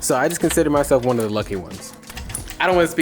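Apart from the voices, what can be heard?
No everyday noise stands out behind the speech.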